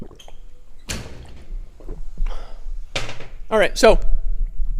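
An indoor door is pushed shut with a single dull thud, followed by a person talking close by.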